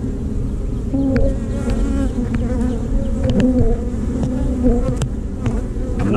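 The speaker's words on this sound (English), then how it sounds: "Lots of bees in there" Dense, loud buzzing of many honeybees swarms close up inside a hive, a constant droning hum with a few sharp clicks and knocks.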